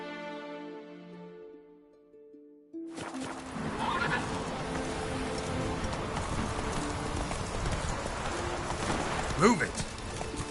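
Roach the horse from Witcher 3 gives a whinny near the start, followed by steady galloping hoofbeats with rain-like noise and a louder neigh near the end; someone speaks briefly.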